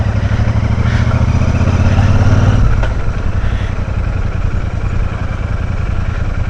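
A loud Royal Enfield Super Meteor 650 motorcycle with a loose chain idles and runs close by, its steady drone overlaid with rattly mechanical chatter; a lower rumble drops away midway.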